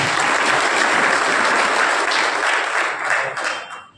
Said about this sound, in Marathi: त्या सर्वांचे आपण टाळ्या वाजवून आभार मानतो